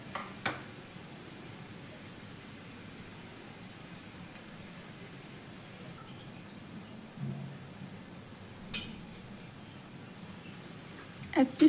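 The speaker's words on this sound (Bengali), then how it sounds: "বড়াগুলো ধীরে ধীরে তেলের মধ্যে ঢেলে দিচ্ছি ভেজে নেওয়ার জন্য।" Bora fritters fry quietly in oil with a soft, continuous low sizzle and a few faint clinks over it.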